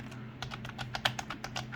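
Soft, dulled keystrokes on a wireless Bluetooth keyboard under a silicone cover, a short run of muted taps at an uneven pace, close and quiet.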